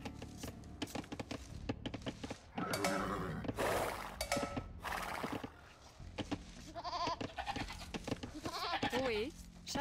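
Sheep bleating in Age of Empires 2 Definitive Edition, a repeated wavering cry rising over busy game sounds while players talk in German throughout.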